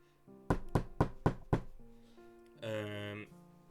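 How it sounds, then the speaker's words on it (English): Five sharp knocks on a door rap out in a steady rhythm, close and loud, as a sound effect during a tabletop roleplaying session, followed by a sustained tonal, music-like sound effect, with no talking. "I'm gonna knock her on the door."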